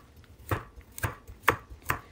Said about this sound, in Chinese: 然后把所有的食材切成块儿